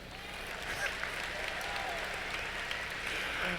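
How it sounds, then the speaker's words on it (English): An audience at a graduation ceremony breaks into sustained applause, a dense wash of clapping heard from within the hall for the whole stretch. "That's an applause line,"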